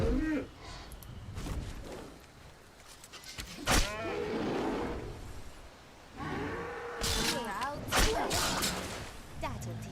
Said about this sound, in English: That's a big cow.